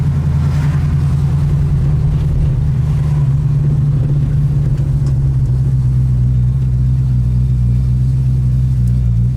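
A 1968 Ford Mustang Coupe with a big cam sits at a lumpy, loping idle, a loud, steady, deep engine rumble close by with no voices.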